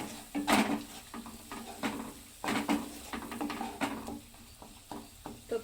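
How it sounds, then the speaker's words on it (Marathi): Shredded cabbage bhaaji with turmeric is stir-fried in a pan, a spoon scraping and knocking against the metal in irregular strokes over a faint sizzle, close and moderately loud, with no talking. "हळद थोडीशी घालते, आणि ह्याला परतून घ्यायचं आहे असं।"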